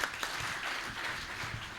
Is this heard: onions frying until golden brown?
no